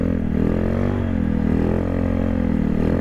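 Honda Grom motorcycle engine revving up close and loud with the clutch in, a steady idle rising and falling in a few smooth throttle blips, alone with no voices.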